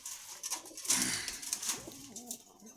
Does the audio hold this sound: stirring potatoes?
no